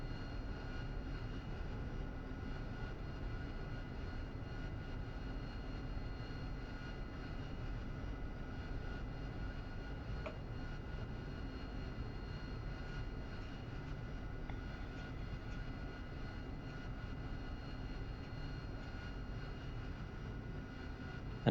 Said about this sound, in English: we can taxi the aircraft and vacate normally